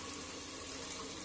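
Water poured into a pan of frying masala while cooking tinde gosht, a steady, close hiss and rush of liquid hitting hot oil, continuous and alone.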